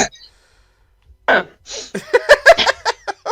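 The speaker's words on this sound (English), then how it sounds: "What was that noise? I sneezed." A single sharp sneeze bursts out near the start after a brief quiet, followed by a short breathy hiss, and then a person begins talking.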